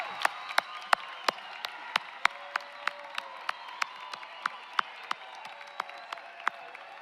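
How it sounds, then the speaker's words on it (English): Steady applause from a commencement crowd for nursing graduates, with many hands clapping at a distance and some sharper nearby claps standing out at irregular intervals. "Let's give them a giant round of applause."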